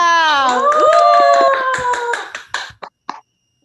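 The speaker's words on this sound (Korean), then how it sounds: "1월 29일 김정난 산하 통합 아침 조회를 박수로 시작하겠습니다." A group claps in quick rhythm to open a morning assembly of an Atomy business team. The clapping runs under a loud chanting voice, then ends in a few last separate claps.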